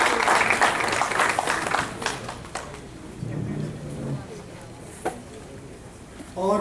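Audience applause at an international mushaira and kavi sammelan welcomes a guest, a dense burst of clapping from a crowd that fades away after a few seconds while faint voices continue in the hall.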